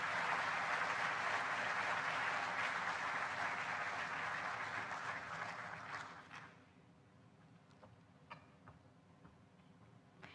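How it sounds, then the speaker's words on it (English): A crowd applauds steadily for about six seconds after ministers sign an energy agreement between two countries at a live-streamed stage event, then the clapping fades to a few scattered claps in a quiet hall. "A round of applause."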